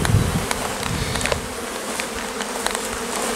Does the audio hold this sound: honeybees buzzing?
yes